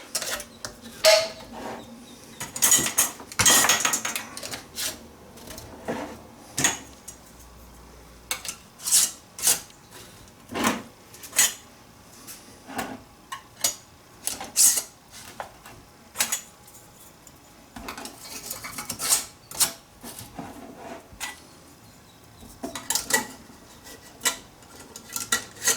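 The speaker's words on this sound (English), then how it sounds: "Put a ring on there and tighten them down finger tight." Metal canning jar rings are screwed finger tight onto lids while canning carrots, giving scattered clinks, taps and scraping twists at close range, irregular and separated by quiet pauses.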